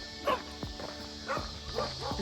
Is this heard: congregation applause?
no